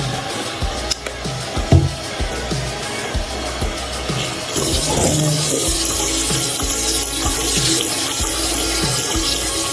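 Wet hands rub shampoo and conditioner through wig hair, a close, continuous squishy scrubbing and swishing with brief dripping water, fairly loud and without talk.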